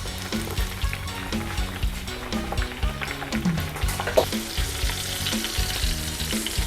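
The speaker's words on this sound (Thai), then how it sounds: "ต่อไปเราจะใส่พริกขี้หนูสวนลงไปทอดนะคะ" Garlic and garden bird's eye chilies fry in hot oil for crispy pork cartilage, giving a steady, busy sizzle with crackling pops throughout, over light background music.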